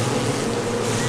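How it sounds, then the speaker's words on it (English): Dense, continuous buzzing of guard bees at a hive, loud and close, a steady insect drone filling the whole moment with no voices. "the guard bees furiously bite at his legs"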